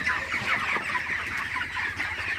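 Many broiler chickens cluck and chatter together inside a poultry house in a dense, continuous flock noise, close and fairly loud, with no talking.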